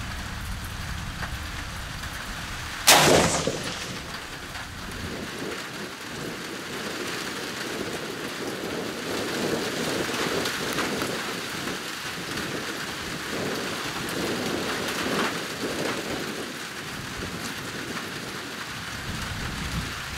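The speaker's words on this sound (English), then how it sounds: "Looks like we're gonna have to walk out there in the rain." Steady rain falls outdoors at a rifle range during rangefinder and scope testing, a dense, even hiss that continues for the whole stretch, broken early on by one sharp, loud crack.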